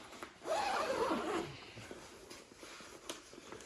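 A full-length zipper on an EWT Sportline Fortis riding suit is drawn in one quick pull lasting about a second, a close, rasping slide that fades into quiet handling noise.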